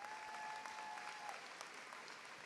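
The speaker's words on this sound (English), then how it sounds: "Let's give them another round of applause." Steady applause from a crowd at a graduation ceremony, many hands clapping continuously at moderate distance, with a brief faint tone near the start.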